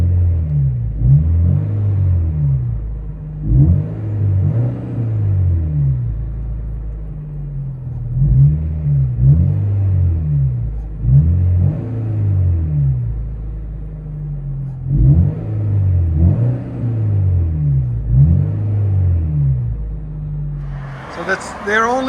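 A 1997 VW Golf GTI 16V with a muffler delete revving repeatedly, loud deep exhaust bursts rising and falling in a steady pattern of blips heard up close, with a brief brighter noise at the very end.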